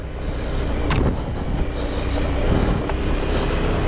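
A KTM 790 Adventure R motorcycle picks its way over loose, rocky terrain, its engine a steady rumble with crunching stones and two sharp clacks from rocks striking the bike.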